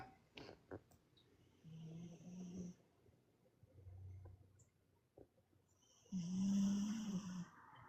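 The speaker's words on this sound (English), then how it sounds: "Did y'all hear him snoring?" A pet snoring indoors at night, two slow rounds of soft, rumbling breaths, the second louder and more nasal, separated by quiet gaps with faint room noises and no talking.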